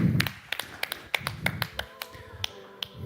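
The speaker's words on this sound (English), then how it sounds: "I think they deserve a big round of applause." A small audience at a Web3 conference applauds the panelists with sparse, distinct, sharp claps at an uneven rhythm, close and moderately loud, and a faint tonal hum runs underneath.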